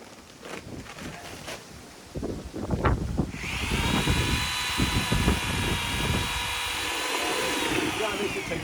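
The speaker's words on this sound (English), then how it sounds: "Always, where you can, use an electric mixer." An electric mixer stirs plaster for a garden room, its steady whine starting partway through and running on at an easy, even speed alongside scraping and knocking.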